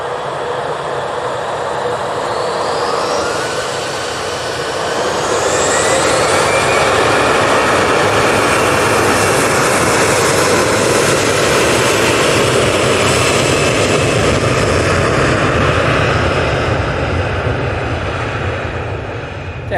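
Airbus A321ceo departing Manchester Airport for Tenerife, a strong jet roar that swells after a few seconds into a sustained, loud thrust rumble with a sweeping whine, with no talking.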